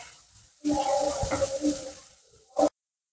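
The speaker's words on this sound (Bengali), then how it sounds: "এবার সমস্ত কিছু একসঙ্গে আমি ভালোভাবে ভেজে নেব, যতক্ষণ না পেঁয়াজের কালারটা চেঞ্জ হয়" Onion frying in oil with cumin seeds and bay leaf, a close, steady sizzle with stirring scrapes that lasts about two seconds, followed by a brief louder burst of sizzle.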